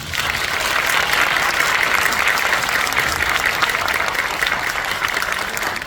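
Dense, steady applause from a cinema audience greeting the cast on stage during the opening-week screening of the film Hijacking, loud and sustained for several seconds without any talk over it.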